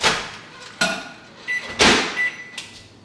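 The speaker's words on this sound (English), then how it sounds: "So I'm just gonna pop a little Orville into the microwave" A microwave oven door clunks open and shut while a bag of Orville popcorn goes in. Several sharp knocks and clicks are followed by short electronic beeps, close by in a quiet room.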